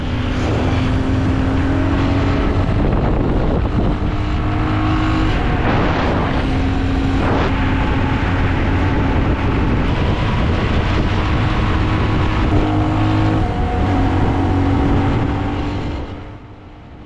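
Loud, steady engine drone of a motorcycle riding along a road, with wind rush and slight shifts in pitch, fading out at the very end.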